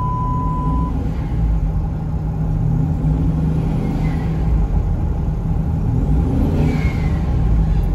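A Jeep XJ engine drones and revs steadily from inside the cab while driving without third gear, a loud constant rumble with a faint tonal whine and no talking.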